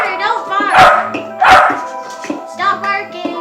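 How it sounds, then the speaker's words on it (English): A pet dog barks indoors, a few sharp close barks in quick bursts over the first half, with a person talking throughout and a game's dog barking also mixed in near the end. "Stop barking."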